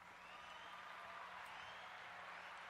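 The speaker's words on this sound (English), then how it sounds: "Can we get the applause" A canned applause sound effect plays on a podcast, a steady, even wash of clapping and crowd noise heard faintly and without pause throughout.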